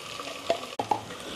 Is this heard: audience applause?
no